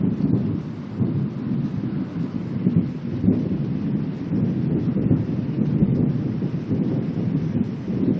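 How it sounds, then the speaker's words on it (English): Distant thunder from a lightning strike rolls in a long, low, continuous rumble through a storm cell, with rain and wind noise underneath and no talking. "I'm sure that you guys know what the sound of a lightning strike is"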